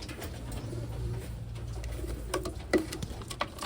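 Blue bar pigeons cooing softly in a loft, a few low throaty coos and rustles over a steady background hum, fairly close and quiet, no talking.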